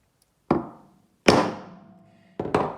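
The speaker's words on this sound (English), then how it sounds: "I'm going to take another hammer and I'm just going to whack the end of this" A hammer strikes the end of a metal bar set on another hammer as a base, three sharp ringing metallic blows with short decaying rings, the last two in quick succession, close and alone.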